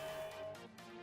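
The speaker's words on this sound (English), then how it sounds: "I got the alarm horn, which sounds like this" A brief, faint electronic alarm horn blast from the video game Destiny, with a sustained tone that shifts in pitch a couple of times, heard alone.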